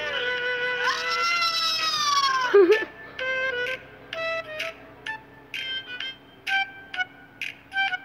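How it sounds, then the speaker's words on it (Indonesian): A small kitten meows repeatedly, one long wavering cry followed by a series of shorter, high-pitched mews at irregular intervals, close by. "disini anak kucing"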